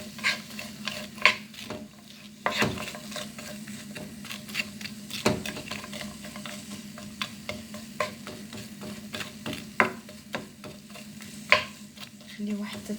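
Onion stirring and frying in oil in a pan, a steady close sizzle with repeated scraping strokes and clinks of the utensil throughout.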